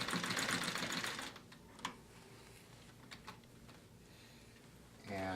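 A treadle sewing machine quilting denim runs in a fast, loud rattling burst, then drops to sparse quiet clicks and ticks before starting up again briefly at the close.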